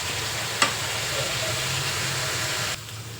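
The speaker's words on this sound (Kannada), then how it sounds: "ಇನ್ನು ಇದ್ರ ಮೇಲೇ ಫ್ರೆಂಡ್ಸ್ ನಾನು ಕಾಳು ಒಗ್ಗರಣೆಗೆ ಹಾಕ್ಬಿಡ್ತೀನಿ" Peas sizzling in hot oil as a tempering in a home kitchen, a close, even hiss with a sharp tick near the start, then an abrupt drop in loudness near the end.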